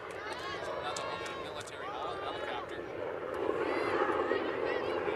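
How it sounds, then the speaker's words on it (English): Steady rotor and engine drone of a helicopter passing overhead a girls' soccer game, fairly loud and swelling slightly toward the end, with no voices. "That's what you hear, another helicopter going off."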